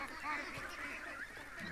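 Ducks and geese honk and quack while being fed, several overlapping calls in quick irregular bursts, moderately close, with faint talk mixed in.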